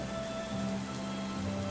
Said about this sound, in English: standing around here all day in the pouring rain